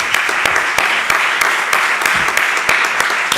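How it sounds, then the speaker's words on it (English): Steady audience applause at a tourism summit session in Tenerife, a dense, loud wash of many hands clapping at once, with a few sharper claps standing out at a fairly even rhythm throughout. "A big applause for them."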